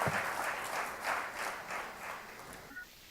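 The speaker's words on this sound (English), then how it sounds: "Could we give him a big round of applause" An audience applauds steadily for about three seconds in a fairly distant, diffuse wash of clapping that tapers off at the end.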